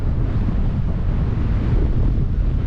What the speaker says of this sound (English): it's freezing cold. Really biting wind